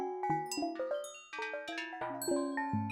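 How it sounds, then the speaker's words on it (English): Wind chime tones synthesized live in SuperCollider ring out as a loose cloud of bright, pitched dings at shifting pitches, each struck and decaying, overlapping irregularly and clear with no talk. "I'm just gonna do this cloudy, you know, wind chimes thing"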